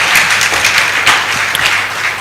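Conference audience applauding a presenter, a dense, steady wash of clapping from many hands that holds evenly throughout, fairly loud and close.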